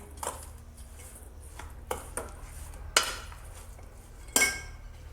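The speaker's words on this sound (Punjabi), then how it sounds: "ਤੇ ਇਹ ਆਪਾਂ ਪਾਵਾਂਗੇ corn ਫਲੋਰ ਇਹਦੇ ਵਿੱਚ ਤੇ ਹੁਣ ਇਹਨੂੰ ਮਿਕਸ ਕਰ ਦਿਆਂਗੇ" Chicken pieces are mixed with corn flour in a bowl, a few scattered clinks and scrapes of utensil against bowl over a quiet background.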